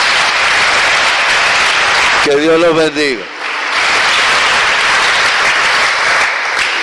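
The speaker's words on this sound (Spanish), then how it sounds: "Un aplauso fuerte para Dios" A church congregation applauds loudly and steadily, with a brief spoken blessing over the clapping partway through before the applause resumes at full strength.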